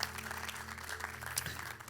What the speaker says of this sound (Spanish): Den un fuerte aplauso a Dios en esta tarde.